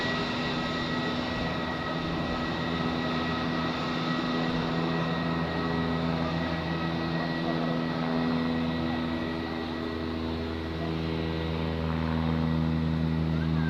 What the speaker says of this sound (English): we have another airplane inbound, the Lufthansa A321, most likely from Frankfurt.